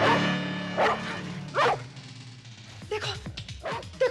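A dog barks several times in short sharp bursts close by, mixed with whiny yips, while people talk over it in a tense conversation.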